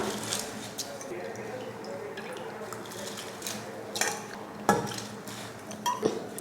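Rice goes into boiling water for chicken rice, heard as soft pouring, splashing and a few metallic clinks against the pot. Faint bubbling runs underneath, and the louder splashes and knocks bunch up near the end. A voice talks quietly in the background.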